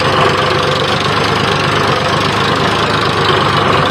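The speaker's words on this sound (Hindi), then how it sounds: "ट्रैक्टर लेके आ रहे हैं" A tractor engine runs steadily while moving soil to level a farm field, giving a continuous mid-pitched rumble with a slight knocking quality. The engine is close and fairly loud throughout, with no talk.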